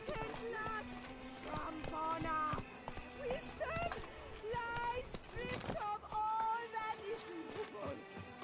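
Hooves of a horse gallop in a quick, uneven rhythm in the video game The Witcher 3, moderately loud and mixed with game sounds and voices talking over them.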